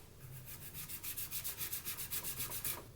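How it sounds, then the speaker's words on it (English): Hand sanding a flat spot on a resin eye with steady back-and-forth strokes, a rhythmic rasping scrape repeating about five times per second, close and fairly quiet. "let's start sanding these"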